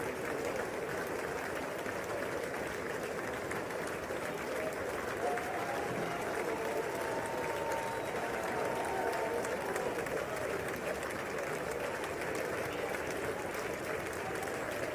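Sustained applause from a large crowd in a big chamber at a State of the Union address, steady and dense for about fifteen seconds, heard somewhat distantly at moderate volume.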